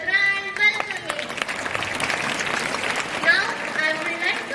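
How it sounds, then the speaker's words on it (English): An audience claps and cheers at a festival's grand welcoming, a dense burst of applause from a crowd that runs steadily for several seconds, with an announcer's voice over the opening moments. "Give a big round of applause for the grand welcoming."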